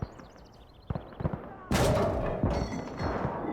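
Tank cannon and small-arms fire ring out in the World War II strategy game Gates of Hell. Scattered sharp shots come first, then a heavy booming blast hits with a long rolling rumble, followed by further loud crackling explosions.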